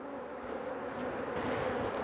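Honey bees swarm around an open hive box as a nucleus colony is settled beneath a queen excluder, a dense, steady buzz close by that holds level and fills the whole stretch without pause.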